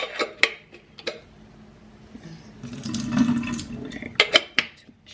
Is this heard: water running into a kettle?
yes